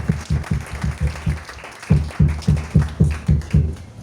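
A church congregation answers with rhythmic, loud clapping in steady unison beats, briefly pausing before resuming the same even pulse.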